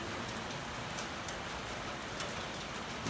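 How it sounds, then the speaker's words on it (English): Light drizzle falls outdoors as a steady, even patter of raindrops, with no talking. "Got a little drizzling out here."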